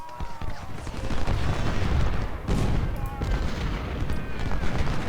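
Civil War musket volleys and artillery fire in the Ultimate General strategy game: a dense, continuous roar of crackling gunfire and booming cannon, loud and unbroken throughout.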